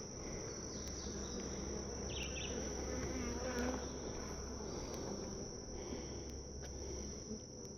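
Honey bees from packaged colonies hum in a dense, steady drone inside an open hive box with drawn comb, close and continuous with a few sharper buzzes of individual bees passing near.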